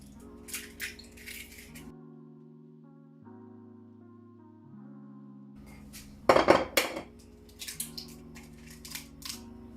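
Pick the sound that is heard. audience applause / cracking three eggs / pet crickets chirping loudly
cracking three eggs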